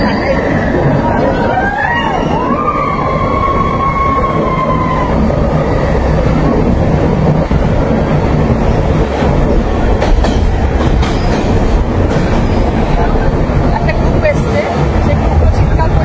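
Steady loud rumble of a moving train passing through tunnels on the Vizag to Araku Valley line, rhythmic clatter, a resonant hollow roar building throughout, voices chattering underneath.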